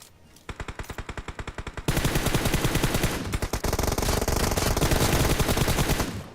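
Rapid automatic gunfire from PUBG BGMI, first in short loud bursts, then sustained fast strings of shots that carry on to the end.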